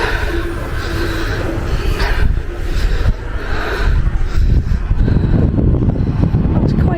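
Strong wind buffets the microphone at the top of the bell tower in Split, Croatia, a loud continuous rumbling roar that swells in gusts, with no clear speech.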